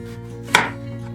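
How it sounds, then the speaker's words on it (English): A knife slices through a zucchini with a single close, crisp cut against a board, set over a steady low hum in a quiet kitchen. "we are going to slice our zucchini"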